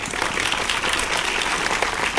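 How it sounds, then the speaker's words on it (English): Steady, dense applause and crowd noise at a school talk show for Timberwolf Night in America, loud and continuous throughout with no pauses. "crowd noise like COVID times, baby"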